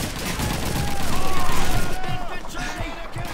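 Gunfire crackles through a Call of Duty 2 battle scene, a sustained fusillade of rapid shots under shouting voices, swelling in the middle before easing off.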